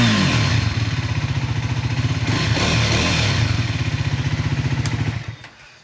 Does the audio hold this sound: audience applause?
no